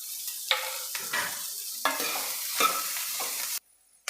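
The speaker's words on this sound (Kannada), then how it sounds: "ಈಗ ಮಸಾಲೆಗಳನ್ನೆಲ್ಲ ಹಾಕಿ ಒಂದು ಮೂರು ನಿಮಿಷ ಫ್ರೈ ಆಗಿದೆ" Spices such as cumin powder, asafoetida and turmeric fry in a pan for sambar with bitter gourd, giving a bright sizzle. A spatula stirs and scrapes through it several times, then the sound cuts out abruptly near the end.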